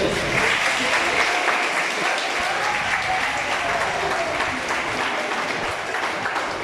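An audience at a school ceremony honouring successful SSC students applauds steadily, a dense, even wash of clapping from many hands that holds for several seconds.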